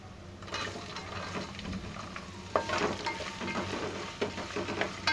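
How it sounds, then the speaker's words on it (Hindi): Onions sizzle steadily in hot spiced oil for vegetarian wheat-and-lentil khichda, with continuous close frying crackle and occasional stirring scrapes and pops, no voices. "प्याज को हम फ्राई कर लेंगे।"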